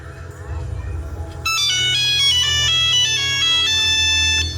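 A melodic phone ringtone rings loudly and continuously at a sir's incoming call, its bright repeating tones starting abruptly and playing steadily over a low background hum, part of a live Navratri festival tableau performance in Marathi.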